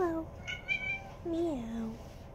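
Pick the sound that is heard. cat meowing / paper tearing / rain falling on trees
cat meowing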